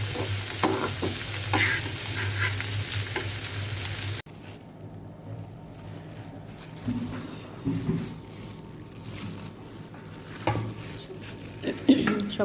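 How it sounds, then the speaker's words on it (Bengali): Onions fry in oil with a steady close sizzle, a louder burst at first settling into a softer crackle with occasional stirring scrapes. "পেঁয়াজ তেলে ভেজে নিচ্ছি।"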